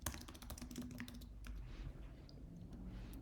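Fast, quiet typing on a computer keyboard, a dense run of light key clicks that thins out into scattered taps, with no talking.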